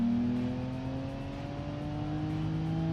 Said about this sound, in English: Second gear really spins and over revs.